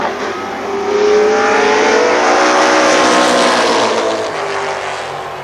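A pack of super late model stock cars at Columbus Motor Speedway roars past wheel to wheel, engines swelling to a loud sustained howl with shifting harmonic whine, then easing off slightly as they move on.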